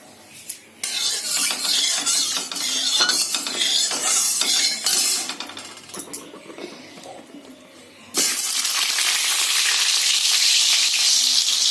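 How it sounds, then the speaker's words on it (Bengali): Potatoes for mutton curry fry in very hot mustard oil in a kadai, a loud steady hiss with scraping stirs, then a sudden, stronger sizzle that holds to the end. "বন্ধুরা, আমি এবারে আলুটা ভেজে নেব, মাংসের আলুটা।"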